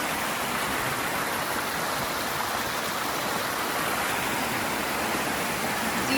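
Bull Creek water running along a hiking trail in St. Edwards Park, Austin, Texas, a steady broadband rush and burble that stays constant and close throughout, with no voices.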